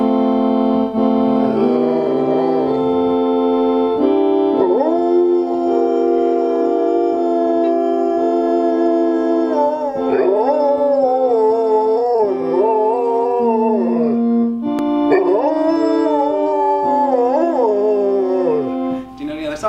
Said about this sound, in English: Did you know that your dog sings hymns?